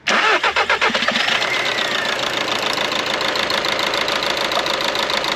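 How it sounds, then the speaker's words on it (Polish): A car engine cranks with a few rapid starter pulses, then catches and settles into a loud, steady idle close by, with no talk. "Odpal, zobaczymy czy odpali w ogóle, czy jest prąd"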